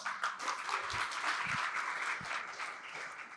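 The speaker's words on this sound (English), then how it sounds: "Now we're going to take a round of applause for each of you" A conference crowd at RailsConf 2023 claps, a brief, fairly quiet burst of steady applause from the audience, with a few faint voices in the room.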